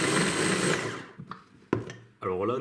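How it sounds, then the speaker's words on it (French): Food processor blending a fruit purée mixture in a home kitchen, a loud whirring motor for about a second that then spins down, followed by brief clunks and a short burst of motor noise again. "nous allons maintenant mixer le mélange"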